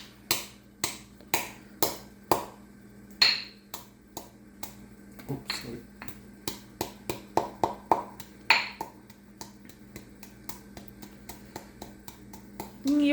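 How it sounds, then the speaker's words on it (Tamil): Sharp, dry knocks as dry ginger is pounded by hand, a steady series of about two dozen blows, close and fairly loud, with slight pauses between short bursts. "இப்போ நாம் சுக்கை இடிக்கலாம்."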